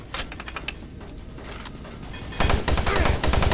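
Chain gun fire in the video game Doom 3: a rapid rattling burst of shots that jumps louder and denser partway through, dry and close, with no talk over it.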